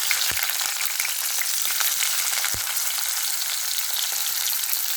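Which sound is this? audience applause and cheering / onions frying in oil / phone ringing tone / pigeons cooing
onions frying in oil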